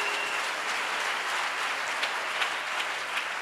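A church congregation applauds steadily and densely for several seconds, the clapping filling the space evenly with no pauses.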